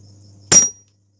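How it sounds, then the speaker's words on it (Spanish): A single sharp metallic hammer blow lands on a part of a Honda Biz C100 engine that is being taken apart. It rings briefly and fades quickly into silence after a faint background hum. "vamos a dar el último martillazo de la noche a este motor"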